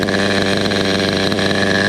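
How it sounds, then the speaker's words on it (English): A Schumacher Havoc 28 big block nitro stunt truck engine with dual exhaust runs steadily and smoothly up close, a loud, even buzzing drone without pauses. "It's a runner. Sounds really nice. Dual exhaust. Runs smooth without the glow driver."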